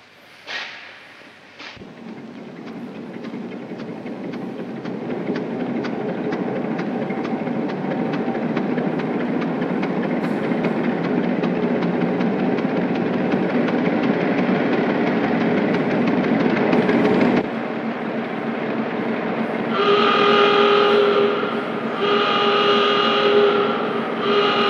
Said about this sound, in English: These engines used to take about 20 minutes to get started.